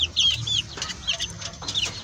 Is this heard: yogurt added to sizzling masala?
no